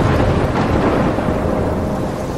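Steady roar of a thunderstorm in Life Is Strange, heavy rain and rumbling thunder filling the whole stretch at high volume with no pause, and no voices.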